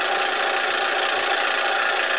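A 1906 Fritz Neumeier toy steam engine, recently repaired and fired by a single burner, runs fast with a steady hissing whir and a rapid, even rattle, loud and close with no voices.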